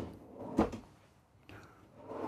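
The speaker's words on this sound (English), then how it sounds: "Pull out drawers." Pull-out drawers in the interior of a 2023 Prevost H3-45 motorcoach conversion slide open and shut, two soft, quiet sliding thumps separated by a short pause.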